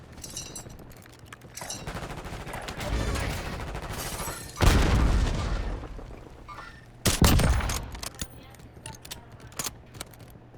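Call of Duty Warzone gunfire in Verdansk crackles in several bursts under game ambience, including a louder burst of rapid automatic shots, with faint speech mixed in.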